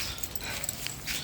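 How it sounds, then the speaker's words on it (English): Dogs play nearby with short whimpering yips and excited little vocal bursts, brief and moderately loud against a hissy room background. "I hear Devin playing with the dogs"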